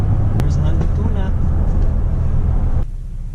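A 2019 Ford Expedition SUV accelerates hard at about half throttle, heard from inside the cabin as a rising engine roar with road rumble, voices at times, before the noise drops off sharply near the end.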